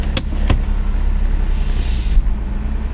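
A Nissan 300ZX on its first drive in 13 years idles with a low steady hum, two sharp clicks early on and a brief rush of broadband noise near the end.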